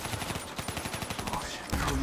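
Rapid gunfire and explosive bursts from Black Ops 3 Revelations Zombies, with grenades thrown amid a dense run of repeated loud pops that swell into a heavier blast near the end.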